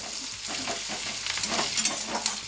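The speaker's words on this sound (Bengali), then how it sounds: "পেঁয়াজটা আর কাঁচা লঙ্কাটা একটু বেঁধে নেব ভেজে" Onion and green chilli fry in a pan for a ridged gourd and coconut dish, giving a steady close sizzle with soft stirring scrapes throughout, no voices.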